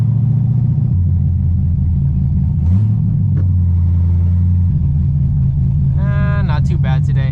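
Corvette Z06 idling with the AC on, a loud, steady low rumble with a choppy, uneven lope throughout, while someone talks over it.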